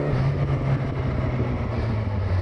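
A steady low engine rumble with a droning hum, continuous and close throughout, from a 2012 Yamaha FZ8 motorcycle heard while riding along.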